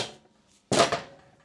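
Single sharp blow of a nylon dead blow hammer loaded with BBs striking the rear axle of a Kawasaki Ninja 250 motorcycle, a close, loud thud with a brief ringing tail.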